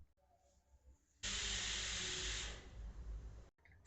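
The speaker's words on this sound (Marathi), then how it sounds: "आता हे वाटाणे कुकरला शिट्ट्या काढून उकडून घेऊयात।" A pressure cooker boiling white peas with salt and turmeric lets out a loud, steady steam hiss that starts abruptly, holds for a couple of seconds and then cuts off, close up with no talking.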